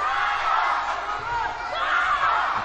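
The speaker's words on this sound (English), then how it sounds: "A cry from the passionate local crowd here" Passionate local crowd at a youth Olympic taekwondo match in Nanjing, a steady roar of cheering and shouts filling the arena throughout, with a commentator's voice faintly mixed in.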